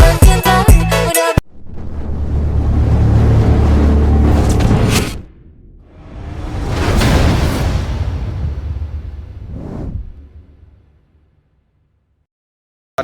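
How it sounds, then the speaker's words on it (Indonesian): An Adhi Prima Suites Class bus arrives in Palembang, its engine rumbling loudly in two long surges with a fading tail before silence, following a brief burst of music at the start. "Ini bus Adi Prima Suite Class tiba di kota Palembang"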